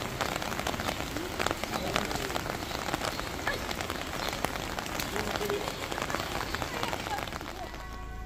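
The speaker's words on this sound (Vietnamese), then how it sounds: "Bây giờ vẫn còn trời mưa, mưa xối xả, mưa tầm tã" Heavy rain pours steadily in Hallstatt, a dense, even hiss of drops striking surfaces close by that continues without a break.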